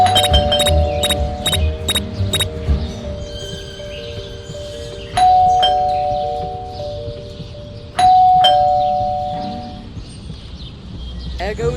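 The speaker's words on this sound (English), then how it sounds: "there goes that stupid bell again." Doorbell chimes ring in the Scary Teacher 3D video game, two clear ding-dong rings with long decaying tones over a busy game background, after a quick run of earlier chimes.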